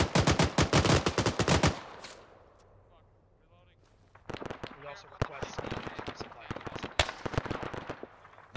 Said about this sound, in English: More shots, probably mosque.